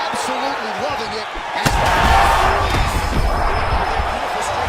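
An arena crowd at a UFC Fight Night women's bout in Vegas swells into loud, sustained cheering and roaring after a sharp impact, while a commentator talks over it.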